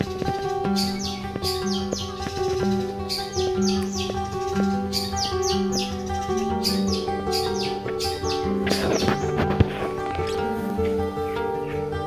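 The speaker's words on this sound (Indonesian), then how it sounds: "burung ini pasti gacor ya, pasti mau naruh, pasti mau bunyi" A long-tailed shrike sings a busy run of sharp chirps and tweets, close and loud, layered over sustained tonal whistles that repeat in steady phrases throughout.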